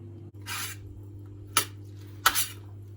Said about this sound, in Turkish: Hazırladığımız bu tepsiyi iyice bir karıştıralım.